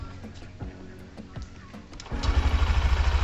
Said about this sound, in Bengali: তো এরপর আমি বাইকটা স্টার্ট দেবো।